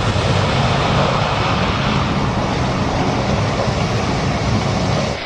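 Inside the cabin of a Concorde airliner cruising at supersonic speed, more than twice the speed of sound and 11 miles up, a dense, steady broadband roar holds evenly throughout with no breaks and no voices.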